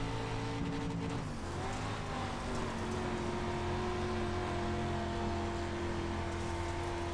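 Dirt street stock race car engines drone steadily in a tight pack on a dirt speedway in the iRacing sim, several motors layered at constant loud pitch with a brief shift early on.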